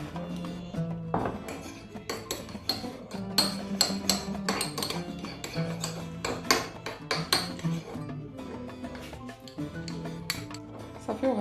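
Salted vegetables for a Russian salad are mixed in a bowl, with a busy stream of close clinks, taps and scrapes of a utensil against the bowl throughout, and no talking.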